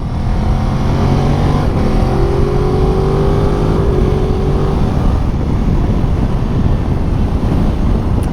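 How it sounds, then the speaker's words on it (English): A 2019 Ducati Multistrada 950S motorcycle engine of 113 horsepower roars steadily up close, rising in pitch as it accelerates, with wind buffeting throughout. "Picks up beautifully. That 113 horsepower engine, really nice, super crisp."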